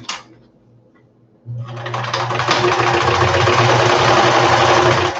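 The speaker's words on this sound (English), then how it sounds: "So if I fold this here and just stitch right over that." Sewing machine stitching across folded fabric for a butterfly craft piece. A brief quiet moment gives way to a loud, steady mechanical whir and hum that runs continuously up close.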